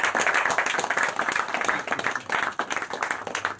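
A crowd claps at a results announcement, with brisk, dense applause that rises and falls in waves, close and continuous with murmuring voices underneath.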